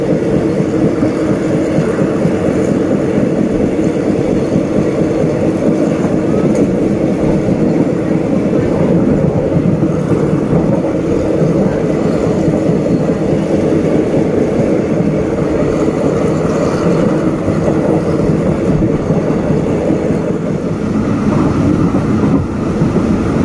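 Continuous low rumble and rattle of an ordinary Thai passenger train, number 255, rolling along the rails, steady and loud for the whole stretch with no voices.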